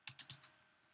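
Four quick keystrokes tapped in a row on a computer keyboard, pressing a Control-key shortcut in the Vim text editor, close and crisp, then quiet.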